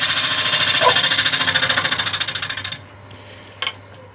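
A drill bit bores steadily into a Malaysian acacia wood vase with a big knot, giving a loud, rapid rattling grind that cuts off abruptly, followed by a brief faint knock.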